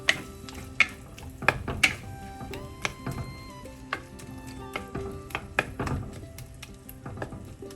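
Masala for a sardine pepper fry being sautéed with tomato in a pan: a spoon clicks and scrapes repeatedly against the metal pan over a faint low sizzle, sharp taps scattered irregularly, close and clear.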